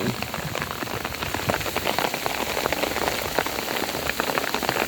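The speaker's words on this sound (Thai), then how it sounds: "ฝนตกมาหนัก" Heavy rain pours steadily on surfaces at a rural garden house beside a pond, a dense, loud, continuous patter of drops with no talking.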